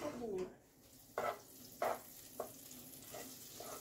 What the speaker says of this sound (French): Lorsque le beurre mousse, faites-y dorer les champignons.